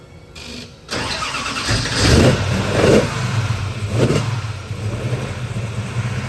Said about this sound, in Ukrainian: Зараз я його попросив, щоб він завів машину